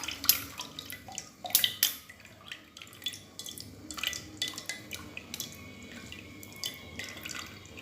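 Blanched gonde leaves lifted and drained, water dripping and trickling with clattery pan and utensil sounds, busy at first then settling into softer drips.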